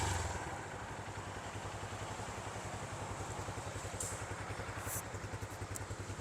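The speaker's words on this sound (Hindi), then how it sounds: "ये इस बाइक की आइडलिंग की साउंड है।" A Honda CG150 motorcycle idles in neutral with a steady low thump and a fast, even rhythmic putter. It sounds moderately close, there is faint clatter now and then, and no one speaks.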